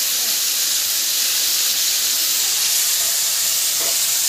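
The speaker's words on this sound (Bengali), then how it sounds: "তো এখানে মাছটা আগে ভেজে তারপর আমি লবণ" Hilsa fish fries in oil, producing a loud, continuous hissing sizzle that holds at an even level from start to finish with no talking.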